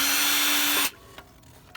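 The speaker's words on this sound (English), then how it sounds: "I found that I needed to drill another hole in the fan shaft support" A power drill bores a hole in the fan shaft support of a John Deere 720 tractor during an electric start conversion, running loud and steady for almost a second before stopping abruptly, followed by faint handling clatter.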